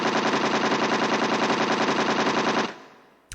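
Rapid automatic gunfire rattles loud and steady for almost three seconds in the Laura Bow: The Dagger of Amon Ra adventure game, then cuts off abruptly, followed by a brief fade and one sharp click at the end.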